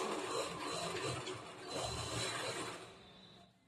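A sewing machine stitches a zigzag fall border, a steady mechanical whir with a fast stitching rattle running close and continuous for most of the clip, then quickly fading away near the end.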